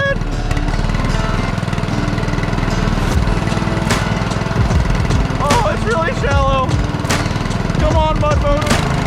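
Mud motor engine of a cheap homemade duck boat running at full throttle, a loud continuous buzzing roar close by, with excited voices shouting over it.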